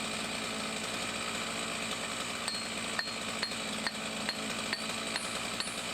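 A new chainsaw cuts through fir wood with a wedge set in the cut, its steady loud engine drone running the whole time, broken by sharp metallic clinks and ticks at intervals.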